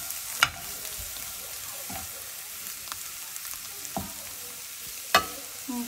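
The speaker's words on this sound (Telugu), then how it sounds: "ఇంకొంచెం ఫ్రై చేసుకోవాలని కొంచెం సిమ్లో పెట్టుకొని" Sliced bitter gourd frying in a pan on low flame, a soft continuous sizzle with a few sharp spoon clicks as it is stirred, close and alone.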